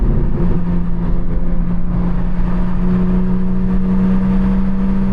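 A BMW M4 Competition with a loud exhaust holds a steady, droning engine note at constant revs, heard close from inside the car with no talking and no clear rise or fall in pitch.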